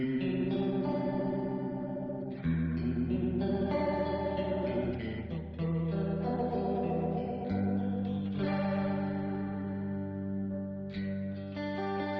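An electric guitar played through a TC SCF flanger, compared against a Kemper Profiler modulation effect, rings out sustained chords with a sweeping, swirling watery modulation that rises and falls steadily and loudly.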